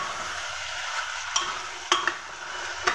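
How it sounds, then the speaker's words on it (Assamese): Potatoes stirred in a hot frying pan in a home kitchen, a steady soft sizzle broken by a few sharp scraping clicks of the spoon against the pan. "এইকেইটা আলু এতিয়া মায়ে অকণমান"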